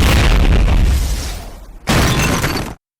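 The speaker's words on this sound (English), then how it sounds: "only to get blasted away by an RPG at the last moment" An RPG blast in a Terminator 3 action scene: a loud, close boom with crashing debris and shattering, a brief dip, then a second burst of roaring impact noise that cuts off abruptly.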